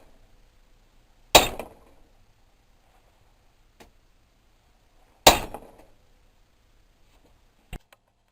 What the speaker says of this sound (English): whack everything with a lump hammer